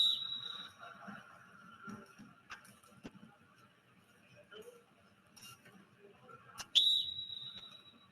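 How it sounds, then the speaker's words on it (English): Referee whistle at a robot soccer match, two short shrill blasts, one at the start and one near the end, over faint background noise and quiet voices. "this time with a whistle from a referee"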